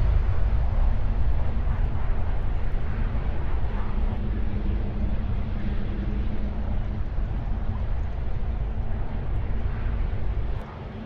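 A supersonic jet plays in the Roblox flight game Aeronautica, a loud, steady roar with deep low rumble. It holds without a break for about ten seconds, close and alone, before dropping off slightly at the end.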